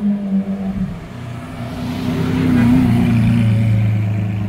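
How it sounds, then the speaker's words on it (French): A first-generation Lamborghini Aventador on a street in Cannes gives a deep, steady engine drone that swells louder midway, close by and without voices. "Aventador première génération, ça fait plaisir"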